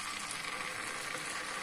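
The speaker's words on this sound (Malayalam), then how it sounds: "ഇതിലേക്ക് നമുക്ക് അപ്പത്തിന്റെ മാവ് ഒഴിച്ചു കൊടുക്കാം" Appam (palappam) batter sizzles on a hot, oiled dosa griddle in a steady, close, continuous hiss with no voices over it.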